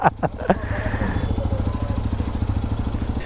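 A Hero XPulse 210 motorcycle idles close by with a steady, even engine putter, and a few brief voices sound at the start.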